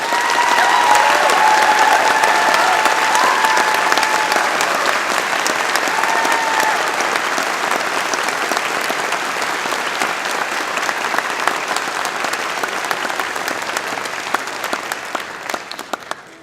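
Graduates at a spring convocation ceremony applaud their faculty, a long, loud, even roar of many hands clapping in a large hall that holds steady before gradually thinning out and fading.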